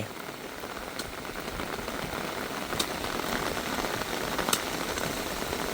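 Rainfall on surfaces at a house in rural Thailand: a constant gentle hiss of drops with a few distinct nearby drip taps, fairly quiet and uninterrupted by voices.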